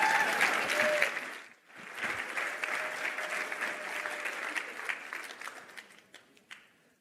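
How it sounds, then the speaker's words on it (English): An audience at a React.js developer conference breaks into sustained applause, loud at first, dipping briefly, then swelling again before tapering off with a few scattered late claps. "So yeah, here's Jared. Please clap."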